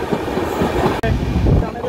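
The Sikkim Mahananda Express runs along its route through the Dooars, a steady close rumble of wheels and carriage noise with a brief dip, muffled talk underneath.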